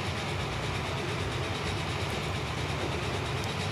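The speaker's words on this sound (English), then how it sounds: "now I can see the train that's causing us problems" A train runs along a Great Lakes loop line in the Transport Fever video game, giving a steady, fairly faint rushing rumble of wheels and engine with no voices.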